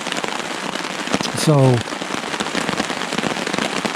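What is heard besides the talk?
rain falling on a tarp at a lake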